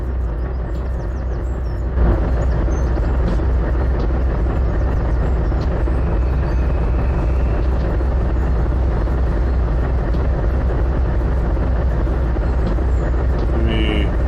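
A diesel locomotive in Trainz Simulator drones with a steady, loud engine rumble that holds constant throughout, a low continuous hum with no talk over it.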